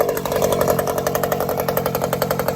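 80cc two-stroke motor on a six-speed chainsaw bike, fitted with a new exhaust, running steadily: a loud, close, buzzy rapid pulsing drone with an even rhythmic throb and no voices.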